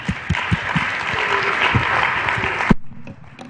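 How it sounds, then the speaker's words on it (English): Audience applause after a motivational talk about generations, a dense steady clapping with a few sharp nearby claps, running loud and continuous before cutting off sharply near the end into a quieter room. "Give them a round of applause."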